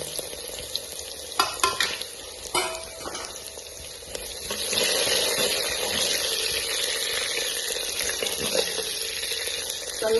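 Garlic sizzling in hot oil with mustard seeds, cumin and curry leaves, a steady close crackling fry with a few stirring scrapes early on and the sizzle growing louder and denser partway through.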